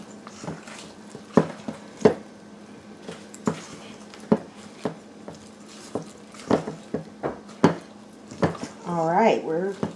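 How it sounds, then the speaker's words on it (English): A spoon scrapes and knocks against a bowl while black walnuts are folded into apple cake batter, giving irregular close clacks and thuds with quiet gaps and a short voice near the end. "We're putting in those black walnuts. And we're just going to stir those in."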